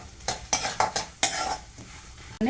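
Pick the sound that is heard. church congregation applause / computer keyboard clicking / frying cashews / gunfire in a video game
frying cashews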